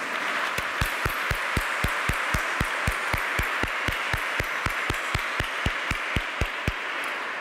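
A university keynote audience claps steadily, a broad wash of applause with a regular series of sharp individual claps standing out near the front, continuing throughout.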